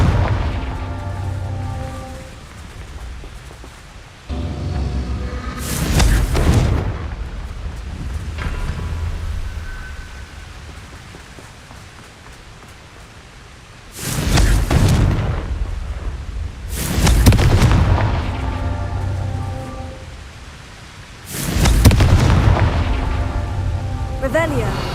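Fiery Confringo spell blasts burst in Hogwarts Legacy, each a loud, booming explosion with a rumbling tail, several going off at intervals over low ambient noise.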